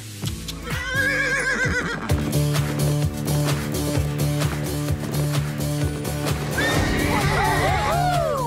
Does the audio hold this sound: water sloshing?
no